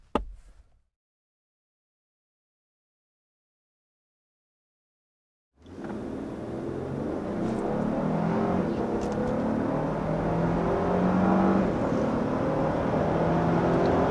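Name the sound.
Lexus LX 600 SUV accelerating up to 60 mph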